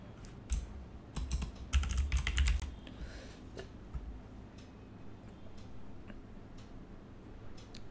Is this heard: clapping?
no